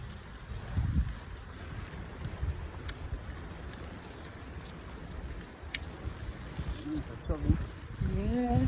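Strong typhoon wind during Typhoon Nanmadol in Japan buffets the microphone by a river in a continuous low rumble with gusts, while people talk faintly underneath.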